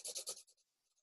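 A blade scrapes through cardboard in a few quick rasping cuts as eye holes are opened in a handmade mask, close and quiet, trailing off into stillness.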